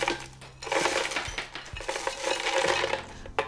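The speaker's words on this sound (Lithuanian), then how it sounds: "Dedame panašiai pusę stiklinės saulėgrąžų ir daugiau nei pusę" Sunflower seeds and cashews rattle into a container, a close, busy patter of small hard pieces clattering in uneven bursts.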